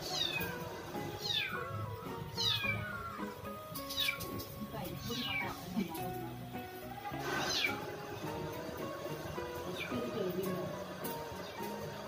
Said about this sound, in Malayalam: ചെറിയൊരു പൂച്ചക്കുട്ടി എവിടുന്നോ വന്നതാണ്